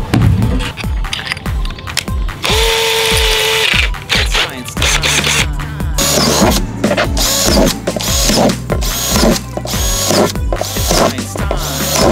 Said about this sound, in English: And I use the drill pilot holes so I can have these like little smaller cuts.